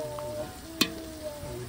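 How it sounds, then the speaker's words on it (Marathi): Cumin, bay leaf and onion frying in a large pot over a wood fire, a brief steady sizzle with one sharp crackle partway through, close and alone. "जिरं आणि कांदा हे फ्राय करतो आपण."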